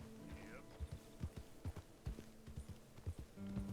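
Video-game horse hooves clip-clopping at a trot in an uneven rhythm, moderately close, with a low steady hum underneath.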